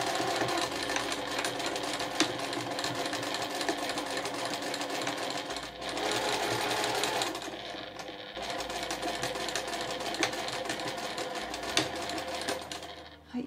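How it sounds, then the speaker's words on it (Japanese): A sewing machine sews a small fabric drawstring pouch, backstitching at the start and finish, giving a continuous close mechanical whir with short pauses and speed changes throughout. "最初と最後は返し縫いをしてください。"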